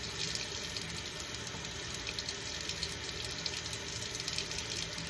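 Lukewarm water runs steadily from a sink tap into the basin, a continuous close hiss and splash with no pauses and no voices.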